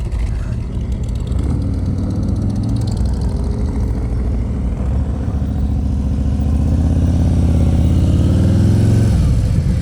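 A motorcycle ridden through a slow-speed U-turn during advanced riding practice in Georgia, its engine a loud, steady close-up drone that holds at low revs and swells slightly before easing off at the end.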